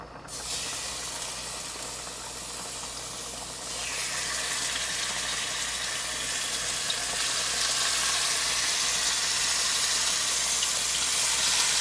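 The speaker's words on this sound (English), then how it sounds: "Okay, so I have the pork chop pretty much sizzling away." A pork chop sizzles loudly in a hot pan, a constant crackling hiss that swells after a few seconds and keeps going steadily, with no talking.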